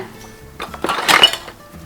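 Brass and silver pooja vessels clinking and scraping together while being scrubbed clean, a brief close metallic rattle that swells in the middle and fades, with no talking.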